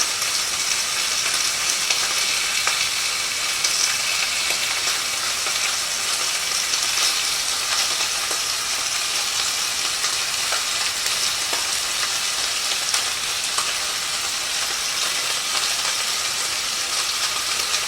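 Smashed beef burgers sizzle in a frying pan with a steady, dense crackle and hiss that holds at even loudness throughout, with small pops scattered across the texture and no talking.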